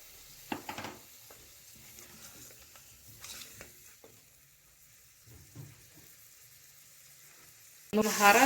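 Beef and spices fry in a pot, a faint sizzle with scattered stirring clatters and scrapes, then a louder burst of sizzling near the end.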